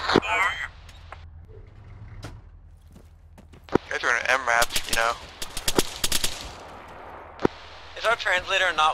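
Bursts of automatic gunfire and sharp single shots in a military video game crack out at close range, mixed with agitated voices talking and shouting over the shooting.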